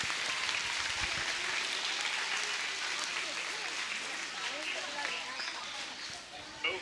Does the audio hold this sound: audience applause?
yes